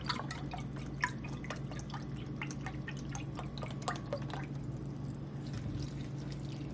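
Broth drips and splashes into crockpot stuffing as 1.5 cups are poured, a close series of irregular liquid drops and trickles over a low steady background hum.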